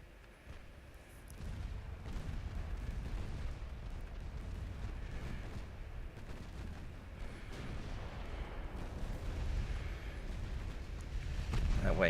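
Naval guns of warships firing in the Ultimate Admiral Dreadnoughts video game, a steady low rumbling roar of heavy gunfire and booms that holds throughout and swells near the end.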